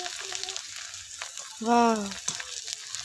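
Rice grains frying in hot oil for crispy chaler jhuri, a steady close sizzle and crackle running throughout, with a brief exclamation from a voice partway through.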